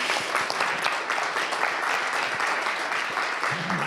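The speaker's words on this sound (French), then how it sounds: "je pense qu'on peut t'applaudir." Continuous applause from a conference audience at a talk on entrepreneurship, dense and even throughout, with a brief voice at the very end.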